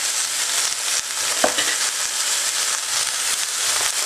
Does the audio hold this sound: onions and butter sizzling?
yes